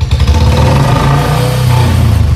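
Royal Enfield Bullet motorcycle engine revving lightly at low speed, a loud, steady, close-up thump with a slight rise and fall in throttle, heard alone.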